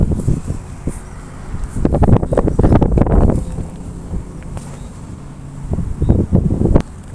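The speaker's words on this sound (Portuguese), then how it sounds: "Hoje tá fazendo muito vento." Strong outdoor wind buffets the microphone in heavy, roaring gusts, loud around the second and third seconds, easing off, then surging again near the end, with no talking.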